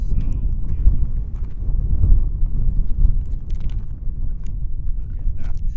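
Wind gusting across a mountain summit, a steady low buffeting rumble on the microphone that swells and eases without let-up for the whole stretch.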